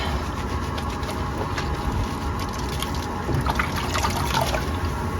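Wool rubbed by hand in warm soapy water, a continuous close sloshing and trickling of liquid with no voices.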